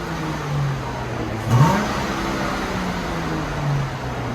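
A car with a resonator-delete exhaust runs at a steady, fairly loud idle, its low engine drone holding even with one brief swell midway.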